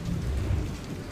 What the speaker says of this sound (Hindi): घोर अंधेरी रात में बारिश हो रही थी